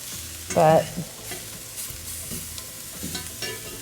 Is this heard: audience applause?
no